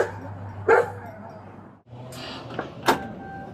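Dogs inside a car during a Los Angeles police traffic stop give a few short barks and yips, loud and close, with a door or window sound and a steady engine hum behind.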